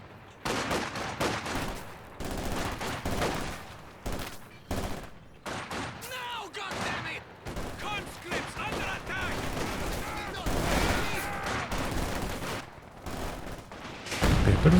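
Gunfire from PPSh guard squads in Company of Heroes 2, a 2v2 match, with dense bursts of automatic fire and explosions crackling continuously, a voice talking over the battle.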